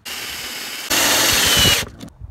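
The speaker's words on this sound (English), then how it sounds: "I'm going to drill down a little bit with this and then sink these in like that" A power drill bores into cedar lumber while building an outdoor table: a steady whirring run steps up to a louder, harsher grind under load, then cuts off abruptly. Close and loud, no talk.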